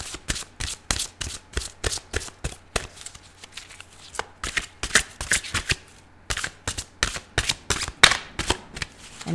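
Rapid bursts of tarot cards being shuffled, riffled in quick repeated runs with brief pauses between, close and crisp with no talking.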